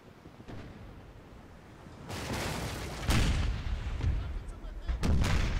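Warship broadside cannons in Napoleon: Total War boom in heavy, rolling volleys at close range, with several loud blasts layered over a low battle rumble and no talk.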